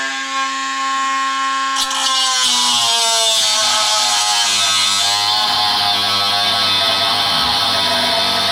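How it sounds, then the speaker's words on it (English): A power drill bores holes into a wall to mount a water heater stand, a steady high-pitched motor whine rising and shifting in pitch as the bit bites, loud and close throughout. "So we're going to drill all these in"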